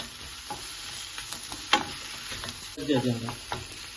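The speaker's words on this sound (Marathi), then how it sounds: "आनी हांव आतां सुंगटां प्रॉन घाता. बरें मिक्स कर." Prawns for a Goan chilli fry sizzling in a pan while being mixed, close steady frying with a few stirring scrapes and a brief clatter near the end.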